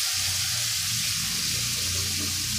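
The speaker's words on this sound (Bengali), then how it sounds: "বাটিটা দিয়ে একটু জল দিয়ে দিলাম" Water is poured from a bowl into a pan of spiced dal with ginger, cumin and turmeric, giving a steady hissing sizzle and bubbling that stays fairly quiet and close throughout.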